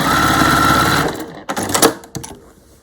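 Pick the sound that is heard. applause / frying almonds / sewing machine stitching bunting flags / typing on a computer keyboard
sewing machine stitching bunting flags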